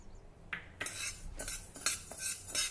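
Mung dal is dry-roasted in a pan over low heat, with a utensil scraping and stirring the dry lentils in a series of short, close, rattling bursts against a quiet background.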